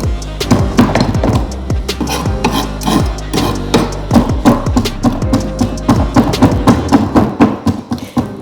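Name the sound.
knife chopping salad vegetables into small pieces on cutting board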